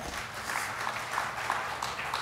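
An audience at a talk on energy, security and climate claps in a steady, dense wash of applause that holds at an even level throughout, with no speech on top.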